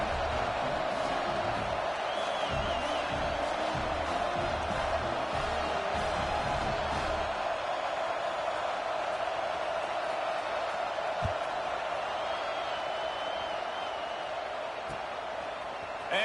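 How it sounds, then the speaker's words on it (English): Stadium crowd in the NCAA 26 football video game on PS5 keeps up a steady, dense roar throughout, with a low rumble of voices mixed in during the first half before settling into an even wash of noise. "did that last drive quiet this crowd"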